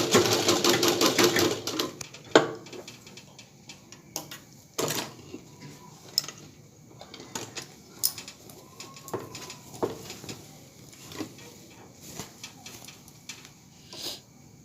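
A sewing machine stitches fabric in a short loud burst at the start, followed by sparse clicks and taps with faint bird cooing in the background.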